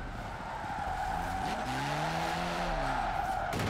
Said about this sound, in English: Fifth gear clutch drop, and it's just ripping tires.